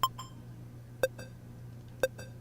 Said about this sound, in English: Did those beeps all sound solid and synced, or was it like bidoop bidoop?